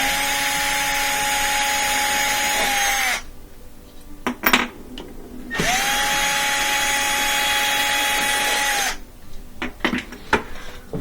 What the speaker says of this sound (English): I just got a extension for my drill